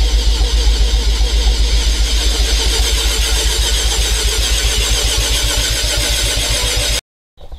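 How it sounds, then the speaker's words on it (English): 1988 Mazda RX7 FC3S rotary engine with a big turbo cranking over and over, a loud, fast, rhythmic starter pulse held for about seven seconds before it cuts to silence, then a short burst returns. "So give her some crankings."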